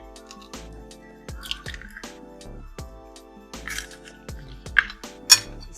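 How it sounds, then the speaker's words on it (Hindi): A spoon mixes gram flour batter with an egg, crushed garlic and yellow food colouring in a bowl, giving a steady series of soft wet taps and clinks, close and moderately quiet, with a few sharper clicks near the end. "अब इसको मिक्स करते हैं।"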